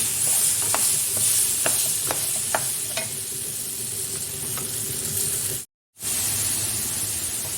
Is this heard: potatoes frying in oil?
yes